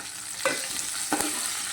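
Capsicum, green chillies, cumin and a pinch of asafoetida frying in a pan, a steady close sizzle broken by two brief scraping stirs.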